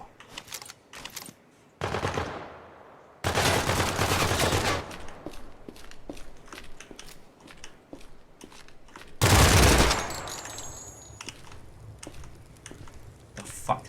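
Rapid bursts of video game gunfire crackle loudly in several long volleys, with sharp single shots and clicks in between, set in a city zone.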